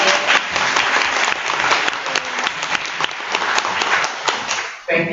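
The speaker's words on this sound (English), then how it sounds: "Let's give Josiah a round of applause." An audience gives a round of applause, with dense, steady clapping filling the space for about five seconds before it cuts off abruptly near the end.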